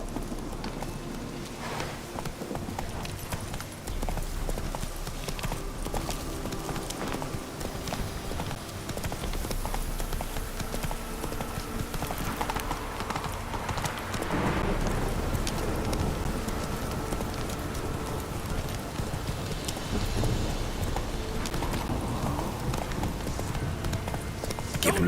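Horse hooves clip-clop in a fast galloping rhythm in the Witcher 3 video game, steady and close throughout, with game ambience and occasional rushes of wind or movement layered over them.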